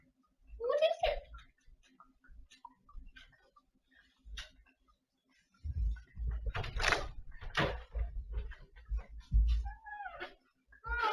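A cat meows twice, fairly close, and a person talks over and between the calls, with light ticking and household clatter underneath.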